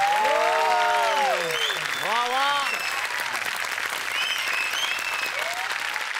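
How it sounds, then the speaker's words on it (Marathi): Loud, sustained audience applause fills a Marathi comedy show stage after a singer's performance, with voices calling out over the clapping early on before the dense clapping carries on steadily to the end. "आनंद सरांसाठी एकदा जोरदार टाळ्या."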